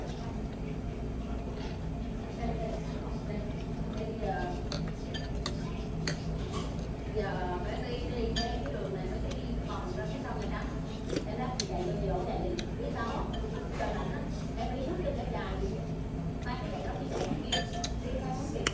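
Utensils clink softly against dishes while someone eats a bowl of beef pho with basil and sriracha, giving scattered light taps over a constant background hum, with talking throughout.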